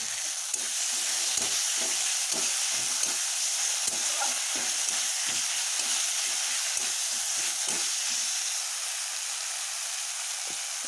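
Vegetable curry sizzling steadily in a pan, a continuous close hiss of frying with soft scraping and stirring sounds throughout, no speech.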